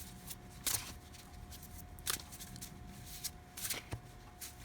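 Tarot cards being shuffled by hand during a reading, heard as quiet, papery riffling bursts that recur every second or so against a soft background hum.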